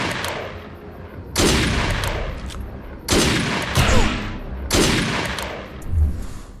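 Bursts of automatic gunfire ring out in the shooter video game Defiance as a player attacks projections, three loud, sustained volleys with short gaps between them.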